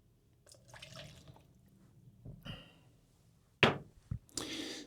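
Water is poured away during plant repotting, heard as scattered drips, splashes and a few sharp knocks against a container, quiet and close, with no talk.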